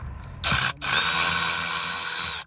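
A ratchet backs out a bolt holding the blower motor of a Honda HR-V. Loud and close, it makes one short burst, pauses briefly, then clicks fast and continuously for about two seconds.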